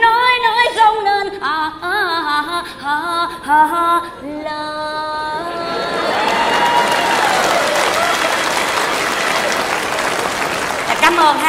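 Applause from an audience at a Vietnamese comedy stage show rises and swells into steady, dense clapping, following a stretch of sung and spoken performance voices.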